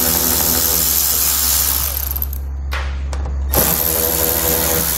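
A power tool with a 7mm socket removes fasteners from a 2017 Chevrolet Cruze, running loud and steady close by, pausing briefly for a few clicks, then whirring again.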